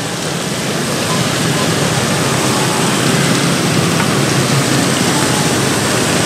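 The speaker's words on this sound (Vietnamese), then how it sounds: "Mưa bắt đầu lớn hơn." Heavy rain falls at night on Nguyen Thi Thap street in District 7 of Saigon, a dense, steady, loud hiss of water that fills the whole stretch without a break.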